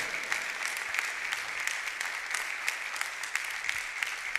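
A church congregation claps along during a Sunday worship service, with rhythmic, moderately distant hand claps spreading through the room without a break.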